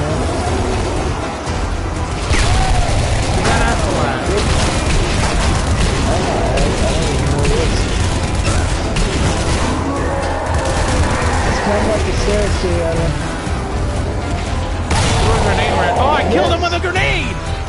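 A grenade blast and rapid gunfire in the zombie shooter Zombie Army Trilogy, with dense overlapping shots and booms running continuously at high volume while several players talk excitedly over the action.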